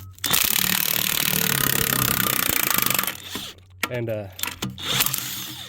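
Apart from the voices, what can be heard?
DeWalt impact gun running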